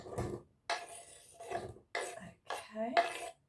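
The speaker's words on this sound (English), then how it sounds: "So I've got all of my onion here, which I'm going to chuck into the pan." Chopped onion tipped from a board into a pan with oil and butter for risotto, heard as several soft clattering scrapes and knocks of utensil on cookware in separate bursts, close and fairly quiet.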